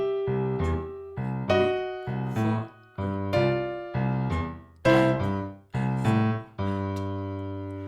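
Boogie woogie left-hand bass riff played on piano: a rolling, repeating pattern of low struck notes in steady bar-long phrases, loud and close, with no talking.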